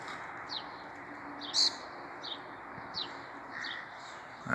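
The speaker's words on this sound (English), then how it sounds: "That's what all the birds and the cats are making a noise about." Small birds give repeated sharp alarm calls at a red kite hunting overhead, a string of faint chirps spaced about a second apart over quiet outdoor background.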